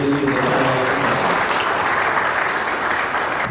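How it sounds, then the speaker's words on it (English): A large audience at a conference opening claps steadily and loudly throughout, a dense, continuous wash of applause that fades slightly toward the end. "give me applause to our exhibits here."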